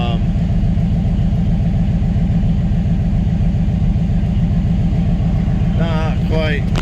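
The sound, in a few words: Chevrolet S10 engine idling with Holley EFI Sniper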